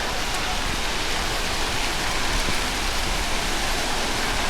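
Multnomah Falls in Corbett, Oregon, pours down with a steady, dense rushing roar of falling water and spray. The sound is loud, close and unbroken throughout.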